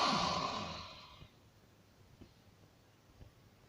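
A breathy exhale during a Pilates exercise, with the arms reaching away from the legs held in a reversed chair position. The long, soft breath fades over about a second, leaving only faint quiet movement afterward.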